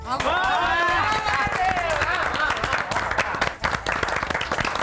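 Clapping and cheering for a woman's society secretary election win in a Hindi TV serial, dense and loud, under harmonic music and voices that carry through the whole stretch.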